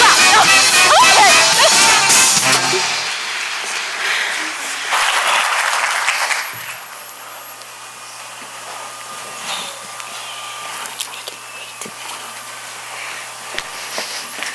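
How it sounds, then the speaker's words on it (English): Audience applause during a high school musical production of Chicago, loud and dense for the first few seconds, surging again briefly, then dropping off to a quiet room with faint scattered noises. "You clap."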